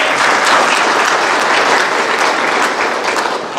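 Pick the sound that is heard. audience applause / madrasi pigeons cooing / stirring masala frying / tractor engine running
audience applause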